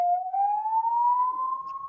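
An ambulance siren sounds alone as a single clean wail, sliding slowly upward in pitch, at a steady moderate distance.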